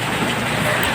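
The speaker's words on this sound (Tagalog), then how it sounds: "Ay, tignan mo guys, ang lakas ng ulan" Heavy rain pours down near a house, a dense, steady broadband hiss without breaks that fills the whole moment.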